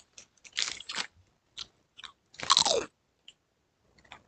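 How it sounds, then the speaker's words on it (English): Crunching Doritos chips in close, loud bites and chews, a run of sharp crackling bursts separated by short silences, with no talking. "I wanted to see on the capture card if it would make their old school like Dorito sound effect thing"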